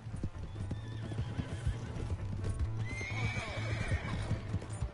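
Horse hooves clip-clop steadily in Red Dead Redemption 2, with whinnies and neighs over a constant low rumble; the gait stays loud and close for the whole stretch, with no talk.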